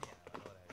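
Horse hooves clip-clop in a quick, uneven rhythm, several hoofbeats in under a second, fairly faint against a low background.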